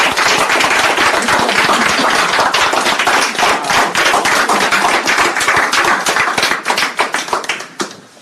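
Loud, dense applause from a church congregation, sustained clapping that fills the space before thinning out and fading at the end.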